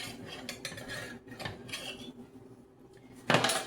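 A borrowed cake pan handled while a double chocolate cake is unmolded, giving scattered metallic clinks and scrapes close by, ending in a louder clatter.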